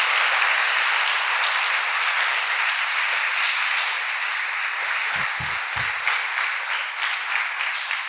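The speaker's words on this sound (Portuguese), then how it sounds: "Eu queria que nós dessemos uma salva de palmas a esses homens e essas mulheres que estão cuidando das nossas crianças na igreja" A church congregation applauds for about eight seconds, a sustained roar of many hands at steady strength, with a few low thumps near the end.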